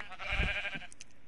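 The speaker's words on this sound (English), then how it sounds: "Hi, sheep." A sheep in the video game Minecraft lets out a single short bleat, close and clear, with no other sounds around it.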